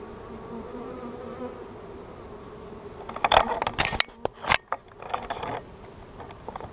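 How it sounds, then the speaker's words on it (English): Honey bees buzz continuously at close range during a first-year hive inspection, joined midway by sharp clicks and scraping knocks of hive equipment being handled. "the bees are doing their thing."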